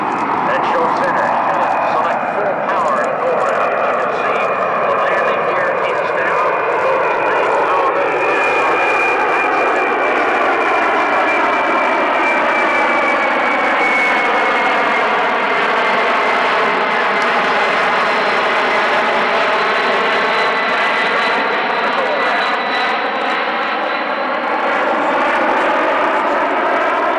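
A C-17 Globemaster III jet transport flies a slow-speed demonstration pass at an air show, its loud, continuous engine roar sweeping in pitch as it passes, under a commentator's voice.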